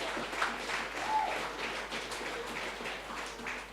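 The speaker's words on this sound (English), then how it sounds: "he deserves another round of applause." An audience at a political party town hall meeting gives a round of applause, a soft, steady patter of clapping heard from some distance that carries on evenly for a few seconds.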